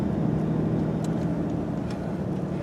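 A Ford Ranger pickup truck drives along with a steady low engine drone and road rumble from inside the cab, continuous and fairly loud with no breaks.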